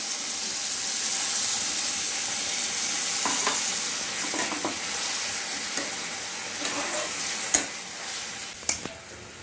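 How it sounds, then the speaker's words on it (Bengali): Warm water is poured into a pan of frying chili chicken and softened onion, giving a steady, close sizzle and hiss of steam with a few faint clinks and no voices. "এবার আমি এখানে 1 কাপ জল অ্যাড করছি, উষ্ণ গরম জল।"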